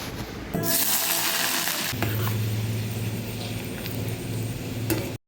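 Paneer and onion fry on a camping stove in a hotel room, a steady sizzle with a low hum from the burner and scattered clinks and scrapes of stirring, ending abruptly.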